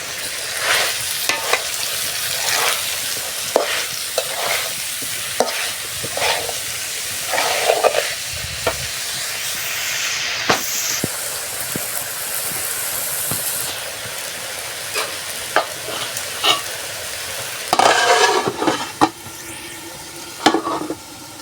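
A curry with dried fish stir-frying in a pan, with a continuous sizzling hiss and repeated clattering strokes of a spatula scraping through it, close and fairly loud with no speech.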